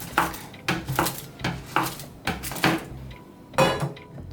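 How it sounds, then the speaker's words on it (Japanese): A knife chopping chocolate finely on a board, in rapid uneven strokes: about eight sharp, close knocks at irregular intervals, crisp and fairly loud, with no talking. "湯煎するときに溶けやすいように細かく刻んでいきましょう。"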